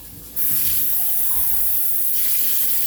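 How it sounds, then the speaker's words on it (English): Faucet water runs steadily into a sink as canned food is drained and rinsed in a home kitchen, a loud continuous splashing gush that starts abruptly and continues alone without speech. "Go ahead and drain and rinse."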